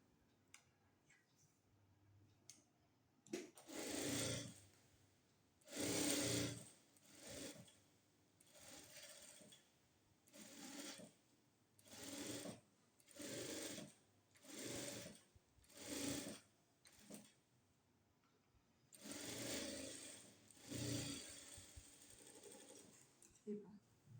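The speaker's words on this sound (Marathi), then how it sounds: "आता याच्यावर आपल्याला शिलाई मारून घ्यायची" A sewing machine stitches the neckline of a princess-cut blouse in repeated bursts of whirring, about ten runs separated by short pauses. It is close and clear against a quiet room.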